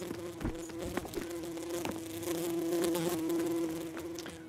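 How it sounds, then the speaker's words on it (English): A swarm of bees buzzes in the video game Lucky Tower Ultimate, a steady droning hum that swells and fades slightly as it carries on, close and moderately loud, with a few scattered knocks and clicks and no talking. "Okay, bees."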